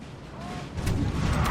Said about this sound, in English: Poor Russians have been getting hammered by artillery.